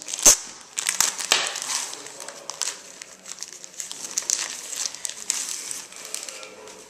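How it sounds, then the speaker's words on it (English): Clear sealed plastic bag from an ASOS clothing parcel being handled, with steady crinkling and crackling close up and a sharp rustle at the start, no talking. "it's in a sort of clear sealed plastic bag"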